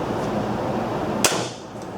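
A Carbon Express Covert 3.4 crossbow fires a single loud, sharp shot indoors, a brief snap standing out over a steady background hum.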